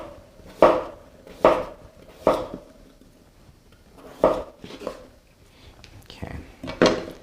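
A kitchen knife slices a root vegetable into discs on a cutting board, giving sharp, distinct chops at an uneven pace: three close together, a pause, then a quicker cluster near the end.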